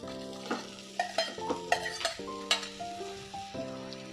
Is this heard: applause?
no